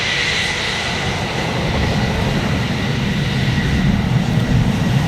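Large aeroplane at the Farnborough Airshow, a loud, steady low engine roar that swells slightly toward the end and continues without a break for the whole stretch.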